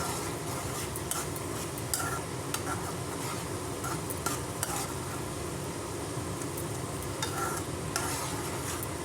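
A spoon stirs tomato chutney in a pan on the stove, giving continuous scraping and stirring over a low sizzle, close and quiet with no talking.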